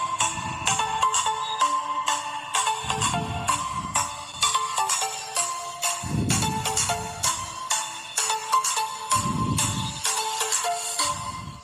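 A Polytron Pass 8C28 active speaker plays music in a room, loud and steady, with a dense melodic tone pattern over recurring bursts of deep bass.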